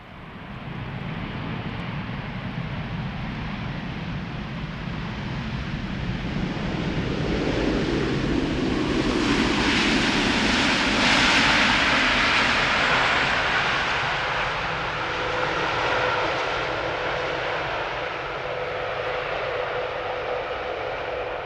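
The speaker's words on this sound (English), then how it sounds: "KLM Flight 622 arriving from Atlanta, Georgia, 787-10 Dreamliner." A KLM Boeing 787-10 Dreamliner arriving at Amsterdam Schiphol on a humid day, its jet roar swelling as it nears, peaking loudly near the middle, then easing away, with no talk.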